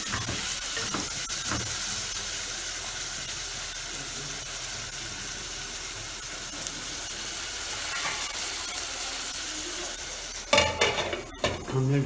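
Onions and turmeric sizzle steadily in a pan while a spoon stirs through them, a continuous close frying hiss with scraping and a few clinks of metal against the pan near the end.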